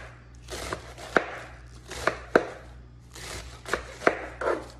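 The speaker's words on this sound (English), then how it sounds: "Then, I just slice it. Let's do some nice little slices on it." A knife slices through cabbage on a cutting board in irregular strokes, each cut ending in a sharp knock against the board, heard up close with no talking.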